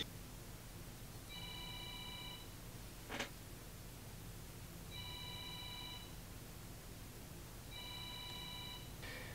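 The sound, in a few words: telephone ringing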